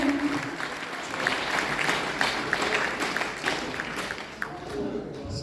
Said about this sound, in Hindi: आप लोग एक बार भरपूर तालियां दे दीजिए